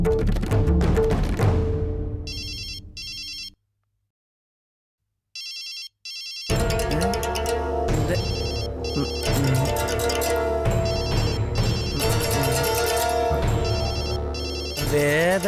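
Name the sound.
phone ringing during a call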